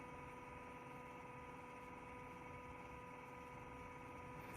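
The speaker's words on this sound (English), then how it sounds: "If you guys hear a whirring sound, that's my fan slash air filter purifier thingamajiggy" A household fan doubling as an air purifier whirs steadily and faintly, a constant even drone with a few tonal hums and no other sounds.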